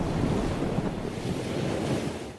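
Ocean waves surge and wash in a steady, loud roar with gusty wind noise, heard alone as a sound effect in a children's story and fading out at the end.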